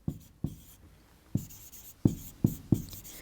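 Pen or chalk strokes and taps while writing by hand and drawing a number line for a maths problem, six short distinct knocks spaced irregularly, close and fairly quiet, with no talk.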